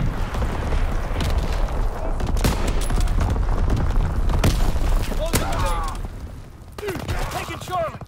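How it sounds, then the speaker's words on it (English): Incoming enemy artillery in a sniper shooter game: repeated heavy booms and gunfire bursts crowd the scene loudly, with a whistling shell and sharp blasts, while a player talks excitedly over the barrage. "Incoming enemy artillery"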